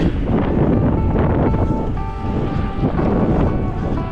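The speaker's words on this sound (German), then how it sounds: "Habe immer noch den Wind gegen mich." Steady, loud wind buffets the microphone of a cyclist riding into a headwind outdoors, a continuous roaring rush that fills the whole clip with no speech.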